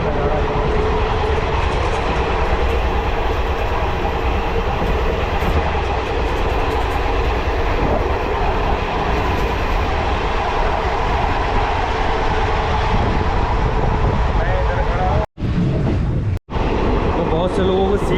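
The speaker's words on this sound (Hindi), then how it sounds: "ट्रेन में सबसे पीछे वाले डिब्बे पे है" Passenger train on the Phuket to Bangkok route in Thailand, heard from inside the last carriage: a loud, continuous rumble and rattle of the moving cars runs throughout, with two brief dropouts near the end.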